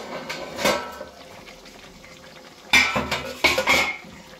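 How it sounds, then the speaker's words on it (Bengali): Chicken curry with potato stirred in a pot after the lid comes off, bursts of metal spoon scraping and clanks against the pot, louder toward the end over a faint simmer. "নাড়াচাড়া দিয়ে নেব"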